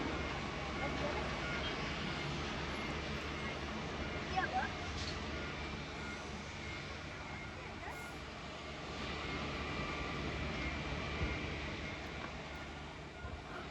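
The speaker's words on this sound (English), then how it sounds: "Jet brake, man. Jet brake." A jet airliner landing at Tokyo Haneda roars with thrust reversers braking, a sustained, broad rushing engine noise that swells and eases over several seconds.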